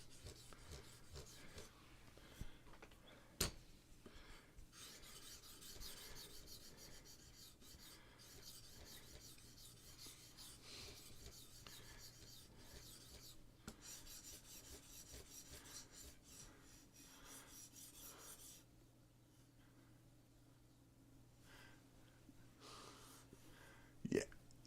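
A soft stainless steel knife blade is rubbed on a sharpening stone in a woodworking shop, giving quiet, repeated rasping strokes at low volume, with a short pause before the strokes resume.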